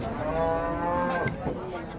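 A dairy cow at a livestock market moos loudly and close by in a long, drawn-out call that wavers before fading.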